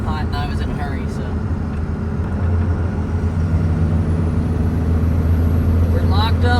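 1999 24-valve Cummins diesel pickup pulling at full throttle, a deep, steady droning engine roar that builds slightly in strength, heard close and continuous, with no talking.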